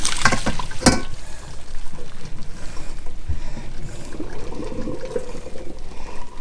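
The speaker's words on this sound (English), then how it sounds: "I'm going to grab our pasta and I'm going to drain it" Cooked pasta and its water poured from a pot into a colander in a kitchen, a loud sloshing gush at the start that settles into steady running and trickling water.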